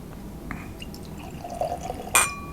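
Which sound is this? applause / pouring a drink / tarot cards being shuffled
pouring a drink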